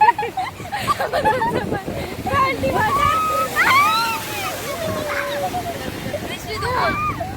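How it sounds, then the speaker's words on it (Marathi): Sea waves splash and slosh against the seafront at Marine Drive, a continuous loud wash of water close by, with people talking and exclaiming over it. "पाणी बघू शकता किती वरती येत आहे"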